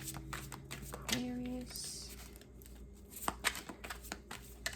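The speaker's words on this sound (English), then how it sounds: "Actually, I'm gonna shuffle these guys." Tarot cards are shuffled by hand in a series of quick riffling, slapping bursts at close range, while a voice talks and a brief tonal sound passes in the background.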